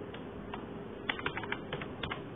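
Someone types code for an Arduino program on a computer keyboard, with a few scattered, soft key clicks close by over a faint steady hiss.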